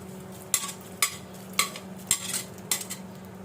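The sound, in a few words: dried shrimp stirred and frying in a pan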